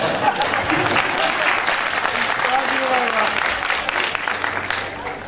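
An audience at a live stage show claps steadily for several seconds, dense and sustained, then thins slightly at the end.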